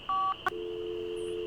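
Phone dialing on a PDA in the Nancy Drew: Ghost Dogs of Moon Lake video game: two clean keypad tones, a brief blip, then a steady low hum holding to the end, alone with no talk.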